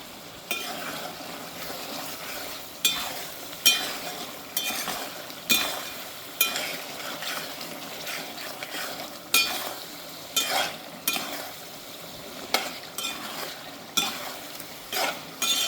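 Fish curry being stirred in a pan, a soft sizzle beneath repeated sharp scrapes and clinks of a spoon against the metal, coming in uneven bursts close by, with no talking.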